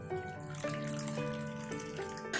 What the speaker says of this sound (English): In this, I will add some water